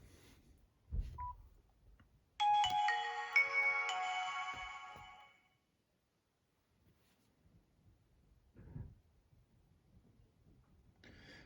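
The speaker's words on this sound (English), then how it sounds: "There, and that's the phone fired up" A Nokia 6600 Fold flip phone plays its short start-up jingle after powering on, a bright melodic burst of a few seconds fading out, with a few soft handling knocks before and after in an otherwise quiet room.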